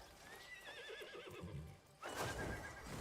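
A horse in the video game Crimson Desert lets out a wavering, high whinny that trails into lower snorting and a few hoof clops. A louder burst of hooves and movement follows, close and clear.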